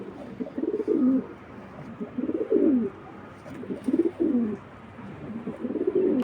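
Racing pigeons coo in four rhythmic, throaty bursts about a second apart, close and fairly loud against a quiet background, with no talking.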